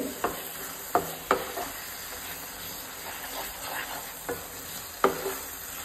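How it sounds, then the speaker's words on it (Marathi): Carrot halwa sweetened with jaggery being stirred in a pan after cardamom powder goes in: a few distinct scraping strokes of the spoon over a soft hiss of cooking, close and moderately quiet, with no speech. "एकदां मिक्स करून घेवया बरो"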